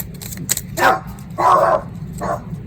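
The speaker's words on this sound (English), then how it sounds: "Oh, there goes the dog again." A dog barks three times indoors, the sharp woofs spaced unevenly and moderately loud over a low background hum, with no talking.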